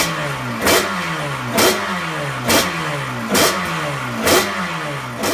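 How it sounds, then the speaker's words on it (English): Honda NS500 V3 two-stroke racing motorcycle engine revving in repeated sharp blips, about six throttle bursts each followed by a falling buzz, evenly spaced and close by. "Let's get a sound check of what a V3 sounds like."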